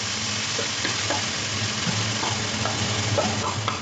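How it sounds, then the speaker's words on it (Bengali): Grated ginger and garlic masala fry in a pan with a dense, continuous sizzle that stays steady throughout and carries light bubbling and scraping over the hiss. "এই আদা আর রসুন। চলো এগুলো দিয়ে দিই। অল্প করে জল দিয়ে দেবো, মশলাটা যাতে খুব ভালো করে কষে।"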